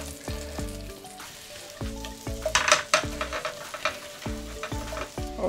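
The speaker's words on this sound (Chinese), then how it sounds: "那先把这个洋葱放进去。" Onion frying in butter in a flat frying pan, sizzling under repeated stirring and scraping strokes, with tonal musical notes running over the cooking sounds.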